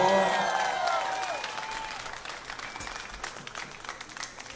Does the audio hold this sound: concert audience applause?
yes